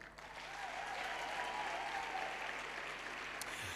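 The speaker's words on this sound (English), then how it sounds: "Can we please give a round of applause for Mr. Lincoln Mali?" Steady, full crowd applause from an audience greeting a speaker on stage at a youth empowerment event, holding evenly for several seconds before easing slightly at the end.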